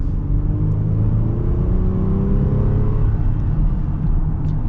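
A 2024 Honda Pilot Elite SUV accelerates hard, its engine note rising steadily from inside the well-insulated cabin, a continuous low rumble climbing through the revs with no talk.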